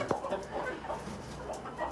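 A chicken clucks softly in a rooftop coop, a few short low clucks scattered over a faint background.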